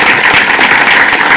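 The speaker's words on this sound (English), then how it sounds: "May I please ask for everyone to give these amazing thinkers a round of applause?" Students are applauded at a school board meeting, with steady, close, fairly loud clapping from a room of people and no talk over it.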